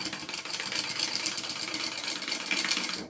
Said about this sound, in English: Probably gonna have to hook on another bobbin to wind.